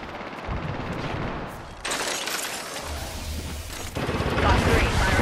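Gunfire in the shooter game Apex Legends, dense bursts of automatic fire cracking over a steady din of game effects, growing louder toward the end, with a voice speaking over it.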